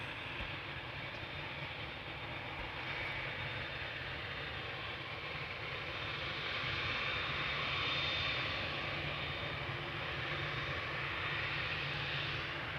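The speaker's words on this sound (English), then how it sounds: "Also coming this way, 787-10 Dreamliner to LAX." A Boeing 787-10 Dreamliner bound for LAX taxis toward the runway at Amsterdam Schiphol, its engines a steady, distant whine and rumble that swells slightly midway, with no voices.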